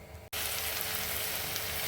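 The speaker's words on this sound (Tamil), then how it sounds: "இப்போ இந்த வெங்காயம் வதங்கின்னு இருக்கு." Onion sautéing in hot oil with tempered mustard seeds and lentils for Karnataka-style kara bath, a loud steady sizzle filling the clip after a brief quiet start.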